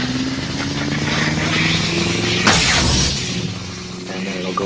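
A ProffieOS6 lightsaber sound font plays its preon effect: a steady electric hum with tonal drones swells into a sharp crackling burst midway, then settles back into a lower buzzing hum.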